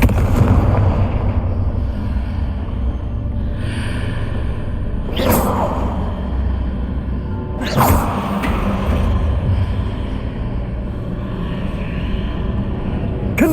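Repeated Confringo fire spells in Hogwarts Legacy, heard as two sharp whooshing blasts over a dense, rumbling game soundscape, with the explosions standing out loudly against the constant background.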